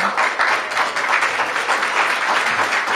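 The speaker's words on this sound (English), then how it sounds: "that's worth applauding" Dense, steady audience applause fills a civic event celebrating a net zero energy commercial renovation, many hands clapping continuously and loudly with no talk over it.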